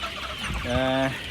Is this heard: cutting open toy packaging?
no